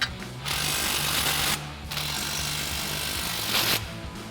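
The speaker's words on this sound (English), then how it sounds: "we've got our 14 mil swivel socket and extension on our impact. We'll go ahead and tighten these down first." An impact wrench fitted with a 14 mm swivel socket and extension tightens differential bolts on a 2011-2024 Ford F-250, hammering loudly and close in two sustained bursts separated by a brief pause.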